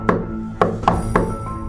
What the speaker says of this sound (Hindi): बाबा और जोर से दरवाजा खटखटाते हैं।